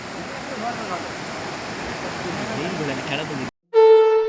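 Floodwater roars over the Hebbale bridge near Kalasa during heavy rain and wind, a dense, steady rushing noise up close for several seconds before it cuts abruptly to a sustained tonal sound.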